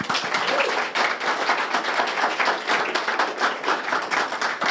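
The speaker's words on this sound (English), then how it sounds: "So just give her a round of applause, please." An audience at a live radio-station stage event claps enthusiastically, a thick continuous patter of many hands that stays loud and steady from start to finish.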